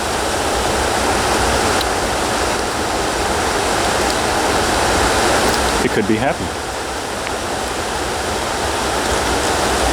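Flowing river water rushes in a steady, broadband hiss close by, constant and unbroken, with a person speaking briefly partway through.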